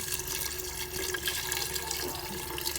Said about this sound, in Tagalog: Lalagyan ko na po ng tubig.